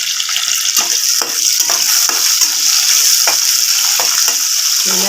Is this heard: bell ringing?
no